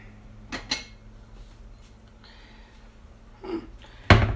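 Dishes and cutlery clatter at breakfast, a few sharp clinks early on, then a loud metallic crash of utensils at the end, close by in a quiet room.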